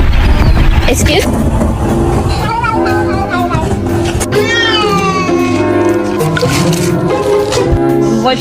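A cat meows among loud, busy background sound, with voices talking over much of it.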